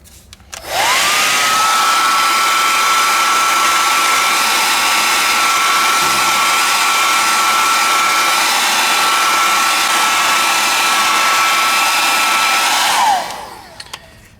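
A heat gun or hair dryer blows steadily and loudly while heating Talon grips for an IWI Tavor rifle, with a constant whooshing roar and whine that starts, holds evenly for about twelve seconds, then spins down.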